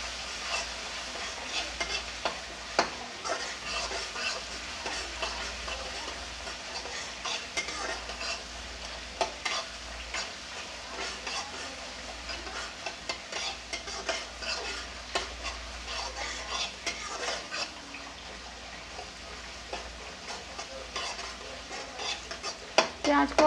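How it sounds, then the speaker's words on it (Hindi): Chopped onions frying on high flame for soybean kofta curry, a continuous close sizzle broken by frequent spatula scrapes and clatters as they are stirred, steady for over twenty seconds with no talking. "फ्लेम को हमने हाई रखा है, इसी पर भून लेना है चलाते हुए"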